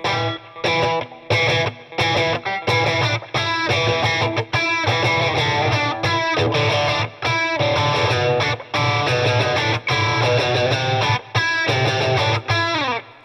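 A heavily distorted Fender Telecaster Deluxe Thinline electric guitar, set to lower gain, plays loud, chunky chords in short bursts with brief pauses between them, sustained and gritty.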